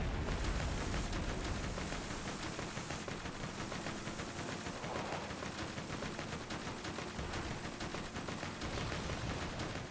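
Steady, rapid gunfire in Borderlands 2, a continuous rattling stream of shots at moderate volume that runs through the whole stretch with no talking over it.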